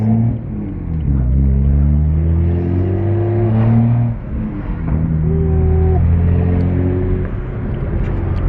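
BMW 335i E92 coupe, bagged, stock turbo with straight pipe and 4-inch catless downpipes, accelerating hard: a loud, continuous throaty exhaust roar rising through the gears with a brief dip between shifts, heard close and alone.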